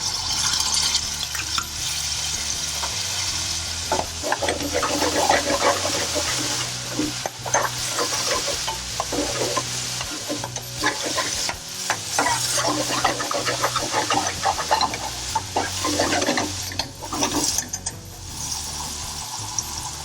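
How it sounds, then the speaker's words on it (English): Garlic and ginger paste frying in a pan for a chicken methi curry, with sizzling oil and a utensil scraping and stirring in irregular bursts; no talking. "now you want to add your garlic and ginger paste"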